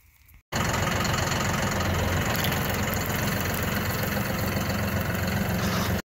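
A loud tractor engine starts abruptly and runs at a steady, rumbling idle, close by, with constant heavy mechanical noise throughout.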